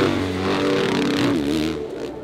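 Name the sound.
dirt bike engines revving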